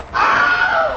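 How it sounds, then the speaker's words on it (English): The Wilhelm scream sound effect: a single loud, close, sustained male scream of pain that rises sharply and holds for most of a second before tailing off. "The Wilhelm scream is a sound effect."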